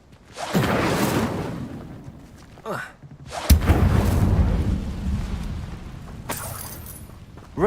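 The Incendio fire spell in Hogwarts Legacy bursts out in roaring, whooshing blasts, two main surges with sharp cracks and a deep rumble between them, loud and close.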